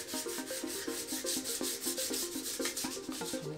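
Hand sanding of a wooden keyboard wrist rest with fine 1200 grit sandpaper, a steady, rapid back-and-forth rubbing rhythm that is close and moderately quiet, heard alone without speech.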